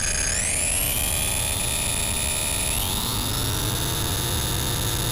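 A vintage synthesizer sustains a bright buzzing note that glides smoothly upward in pitch, then glides up again to a higher note, loud and continuous, with no voices.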